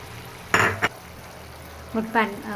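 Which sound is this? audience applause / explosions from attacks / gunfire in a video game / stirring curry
stirring curry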